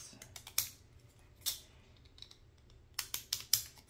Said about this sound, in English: So then I'll just cut these.